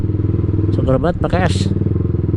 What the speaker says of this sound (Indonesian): Knalpot gue juga nggak terlalu berisik kan sekarang, udah di repair.